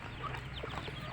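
Rhode Island and Black Australorp hens clucking close by in a backyard flock at feeding time, a steady murmur of soft overlapping clucks with a few sharper calls, no talking.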